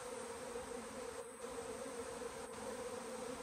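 Honey bees buzz around hives where a swarm was collected, a dense continuous hum filling the whole stretch, close and steady, with no talk.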